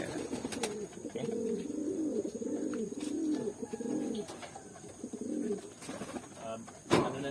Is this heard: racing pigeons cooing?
yes